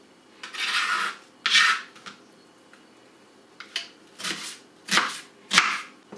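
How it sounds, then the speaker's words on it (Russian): Knife chopping carrots on a cutting board while preparing bulgur with vegetables, heard as short bursts of crisp cutting strokes with pauses between, close and clear, with no talk. "Затем порежу морковь."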